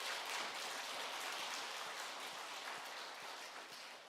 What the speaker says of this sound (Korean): 우리 찬양대의 감사와 하나님께 영광의 박수 올려드리겠습니다